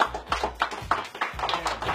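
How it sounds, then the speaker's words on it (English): A few people clap, producing quick, uneven bursts of handclaps at close range. "Round of applause, everybody."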